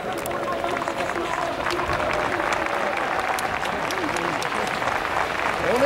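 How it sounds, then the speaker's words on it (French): A crowd of football ultras at a national street demonstration applauds, with steady clapping mixed with shouting voices and crowd noise throughout. "On applaudit les Bordelais là!"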